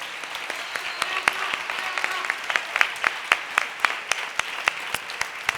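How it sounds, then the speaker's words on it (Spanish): Audience at a gala event applauds the musicians, with sharp, rhythmic claps standing out over a softer bed of crowd clapping, close and fairly loud. "Que siga el aplauso, que continúe el aplauso para los músicos,"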